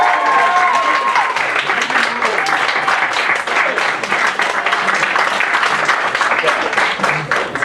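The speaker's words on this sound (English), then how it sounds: "I'm going to give everyone 1 second to clap one more time for these candidates" Audience applause for debate candidates, a dense steady clapping that fills the whole stretch at full level, with a few brief voices and a whistle-like tone near the start.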